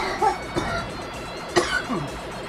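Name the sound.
person coughing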